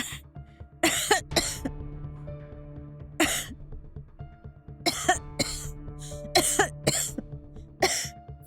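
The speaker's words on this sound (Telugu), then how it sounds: "నువ్వు దగ్గుతుంటే టెన్షన్ వస్తుంది" Repeated harsh coughing fits, several bursts spaced irregularly across the clip, loud and close, with quieter breathing in between.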